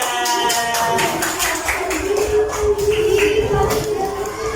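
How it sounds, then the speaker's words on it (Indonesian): Schoolchildren in a classroom clapping for a classmate, a brisk scattered patter of many small hands close by, with voices and shuffling underneath. "Tepuk tangan untuk Adia"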